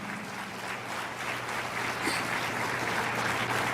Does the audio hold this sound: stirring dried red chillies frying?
no